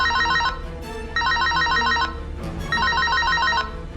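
A mobile phone ringtone rings loudly in a lab, three bursts of a bright repeating electronic tone pattern separated by short gaps, with no talking.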